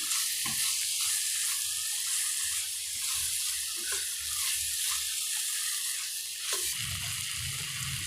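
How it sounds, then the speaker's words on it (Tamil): Soft sizzling and scraping from a pan as onion-tomato masala with chili powder is sautéed for tomato curry, with faint stirring knocks underneath, steady and fairly quiet throughout. "நல்லா வதக்கிக்கோங்க."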